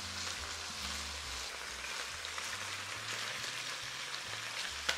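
Chicken pieces browning in a pan, a steady broadband sizzle that holds through the whole stretch at moderate level, with no voice over it.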